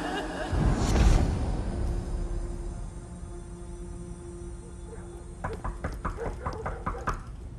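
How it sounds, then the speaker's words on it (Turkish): A run of rapid knocks on a door in a Turkish TV film scene, coming in the last few seconds after loud, distressed voices, moderately close and fairly crisp. "Cemil kapı çalıyor."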